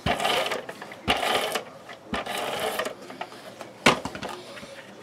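ATG adhesive tape gun run across a card, giving several short ratcheting, rasping strokes of tape dispensing, close and fairly loud, with brief pauses between passes and no talking.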